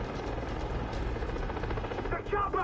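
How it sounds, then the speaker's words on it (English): Helicopter in the video game Far Cry 3, a steady rotor drone thrumming throughout amid chaotic combat noise, with shouting voices over it. "The chopper! Shoot it down!"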